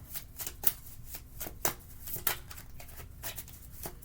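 Close, steady card shuffling with repeated soft riffles and sharper snaps, continuing for several seconds without speech.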